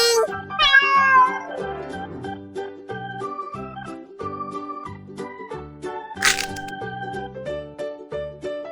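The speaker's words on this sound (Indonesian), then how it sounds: "kucing" A cat meows amid a busy children's song about cute animals, with bright melodic music and a chime-like burst carrying on throughout.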